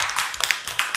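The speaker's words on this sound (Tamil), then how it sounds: "கை தட்டுங்க" Children in a classroom clap their hands, a short burst of several quick uneven claps close by, with no talking.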